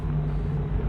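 A low, steady engine rumble of a car in Cyberpunk 2077, brief and moderately loud, as if a vehicle is idling or approaching nearby at night.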